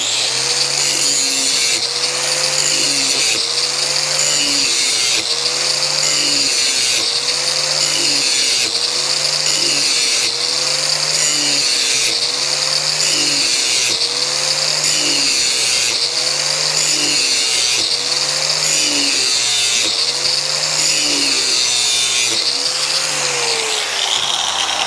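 Ariens Ikon XD 52-inch mower blades are ground with a power tool on a sharpening jig, a loud continuous whine with a regular rising-and-falling pattern from repeated even swipes along the blade edge.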